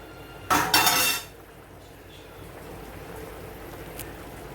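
A spoon stirs a yogurt chicken curry in a cooking pot, giving one short scraping clatter that fades into a quiet kitchen background.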